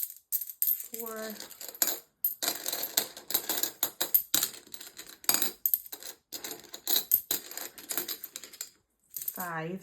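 Coins clatter and clink repeatedly as British pennies are dropped and counted, a busy run of metallic taps with a voice talking in between.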